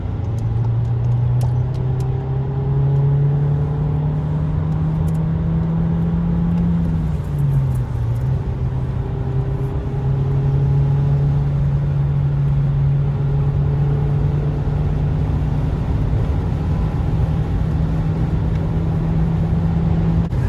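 Volkswagen Passat 1.4 TSI engine pulling steadily in third gear at around 3000 rpm while joining a motorway, a continuous close engine drone with slight pitch dips and rises, road noise underneath and no talk.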